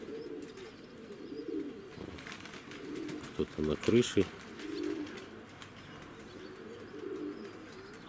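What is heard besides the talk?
pigeons cooing in a pigeon loft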